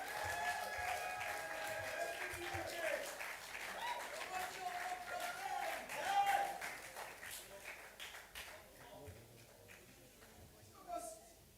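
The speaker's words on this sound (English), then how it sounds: "A round of applause, please" Steady applause from an audience at the Young Historian Competition grand finale at Nile University Abuja, filling the hall with dense clapping and voices, swelling briefly then thinning toward the end.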